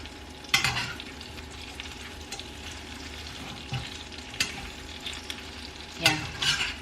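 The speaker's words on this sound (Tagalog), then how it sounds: "Halu-haluin lang natin dito guys ng ilang minutes." A utensil stirs food frying in a pan outdoors in a backyard, with a steady low sizzle broken by a few sharp scrapes and clinks.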